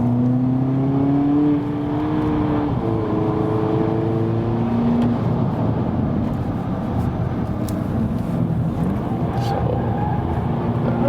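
A VW Polo GTI driven hard with stability control on, a loud steady engine drone that climbs through rising revs, with tyre noise throughout and no talk.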